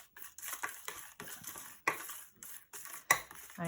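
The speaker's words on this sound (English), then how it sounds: "Let's stir it around" Paint scraps being stirred around in water, giving scattered clinks and scrapes against a container with a couple of sharper knocks, close up and fairly quiet, no talking.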